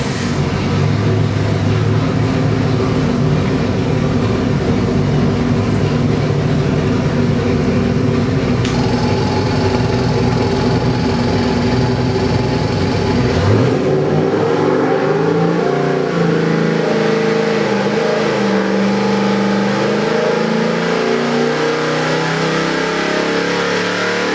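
A 383 cubic inch small block Chevy crate engine rated around 400 horsepower runs loud and steady, its revs climbing and falling with a shifting pitch partway through, with no talk over it.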